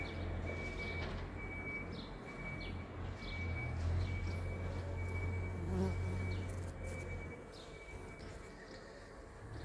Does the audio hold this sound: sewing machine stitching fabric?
no